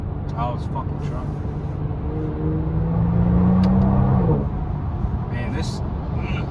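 A 2026 Genesis G70 Sport engine heard from inside the cabin, a steady low drone rising into a brief acceleration with a pitch climb, then a sharp drop at the shift, with a voice talking over it.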